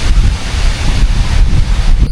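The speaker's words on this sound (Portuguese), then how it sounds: "Olha como tá ventando, pessoal." Strong wind roars and buffets the microphone in a constant, loud rush during a fishing trip in heavy rain, with a faint wash of surf underneath.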